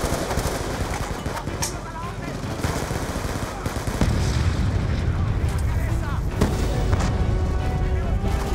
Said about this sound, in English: Those mortars though, man, they put in work.